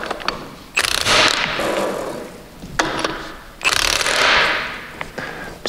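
A ratchet tightening bolts on an ARB Air Locker during installation, heard as two loud, rasping bursts of clicking with short pauses between, close by and with no talking.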